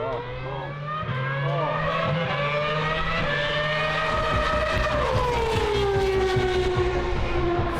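Hybrid four-cylinder Formula 1 car engine under a carbon body, a loud continuous whine rising and falling in pitch as the revs climb, with a low rumble beneath, steady and close throughout.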